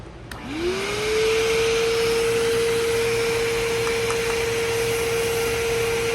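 An upholstery extractor spraying and suctioning a BMW E30 sedan car seat starts up with a rising whine that settles into a loud steady motor drone with airy suction hiss, continuing alone without speech.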